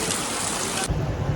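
Rain begins falling hard on a street in Sambhal, India, a loud, close, steady rushing wash of water that shifts abruptly to a duller, lower patter near the end.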